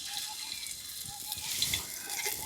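Chopped garlic fries quietly in a little white oil in a frying pan, giving a soft continuous sizzle with faint crackles throughout.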